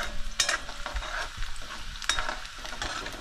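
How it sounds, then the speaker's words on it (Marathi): Onion frying in a pan for a freshly caught fish curry crackles with a soft continuous sizzle, broken by a few close spatula scrapes and knocks against the pan. "तर कांदा थोडासा भाजू देत, लगेचच भाजेल"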